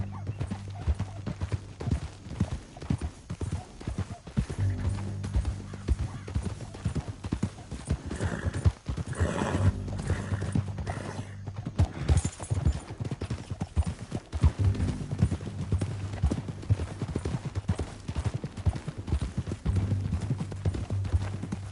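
Horses gallop in the Red Dead Redemption 2 video game, a dense, continuous clatter of hooves close by, with a whinny now and then and a character's voice speaking over the rhythm.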